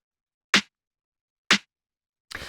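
A layered snare and hand clap sample for Detroit house, a punchy, tight rimshot-like snare, strikes twice about a second apart in silence, followed by a third hit that rings a little longer.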